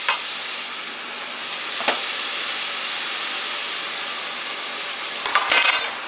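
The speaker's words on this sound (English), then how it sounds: "I'm going to go ahead and drop in the meat" Ground meat dropped into a pan with already-cooking onions gives a steady, broad sizzle throughout, with a couple of brief clinks and a stirring scrape near the end, no talk.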